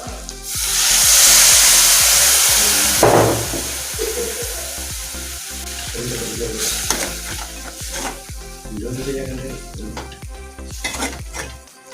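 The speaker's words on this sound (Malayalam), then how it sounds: "രണ്ടാം പാല് ചേർത്ത് തിളച്ച് വന്നിട്ടുണ്ട്" A pot of mango curry with coconut milk bubbles and sizzles loudly at first, then settles into a steady simmer with spoon scrapes against the pan.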